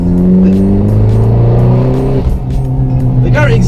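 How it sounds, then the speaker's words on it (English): A tiny Abarth car engine with an aftermarket exhaust revs loudly and close, pitch climbing, dropping briefly, then climbing again, with a faint squeal near the end. "whenever I hear this tiny engine ramming up and making all this noise"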